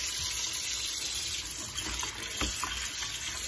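Raw catfish pieces rinsed under a running kitchen tap, a steady close gush of water splashing into a bowl with brief sloshing surges as the fish is handled.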